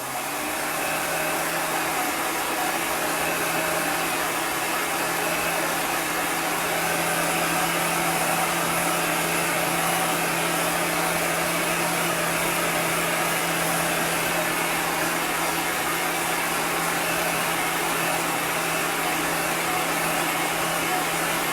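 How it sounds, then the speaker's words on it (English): Steady, continuous whooshing roar of a heat gun drying paint on a watermelon gnome door tag, close and unchanging throughout, with no talking. "Let me get my heat gun."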